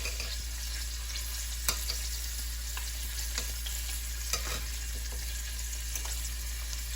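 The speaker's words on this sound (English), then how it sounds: "So I'm going to flip it because you don't want it to cook so much because this is shrimp." Shrimp frying in oil in a single pot for a shrimp and vegetable stir fry, a constant dense close sizzle broken by several sharp clicks and scrapes as the pieces are turned.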